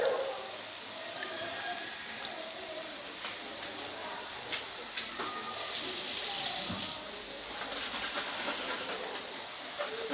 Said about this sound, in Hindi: थोड़ा सा पानी डाल दिया इसमें